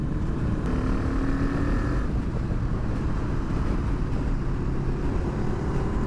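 A Kawasaki Z650 motorcycle fitted with a new aftermarket exhaust line revs with a loud, deep, continuous engine rumble, close to the microphone, with wind noise buffeting over it.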